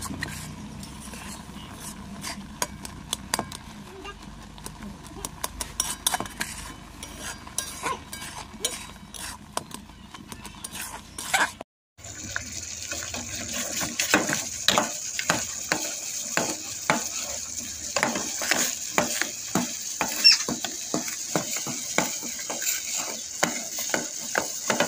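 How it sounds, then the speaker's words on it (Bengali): Egg halwa cooking in a pan is stirred again and again, with busy scraping and clinking strokes over a soft sizzle that grows brighter after a short break halfway through. "আবারও আমি ভালো করে নেড়ে চেড়ে মিশিয়ে দিলাম।"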